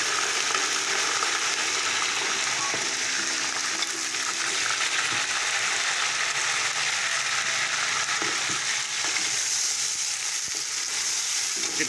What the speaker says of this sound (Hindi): चिकन को डाल के भून रहे हैं।